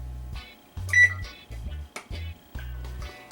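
An oven control panel being set to preheat to 350 degrees gives a series of short electronic beeps, close and clear, spaced irregularly and mixed with faint button clicks.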